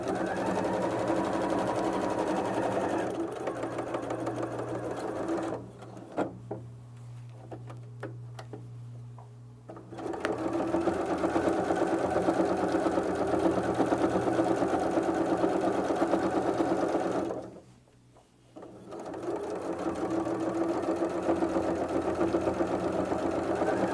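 A sewing machine stitches a double fabric wallet in steady mechanical runs, pausing briefly twice, once for several seconds and again near the end, with a low hum underneath and no talking.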